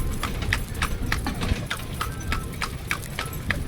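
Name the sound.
horse clip-clopping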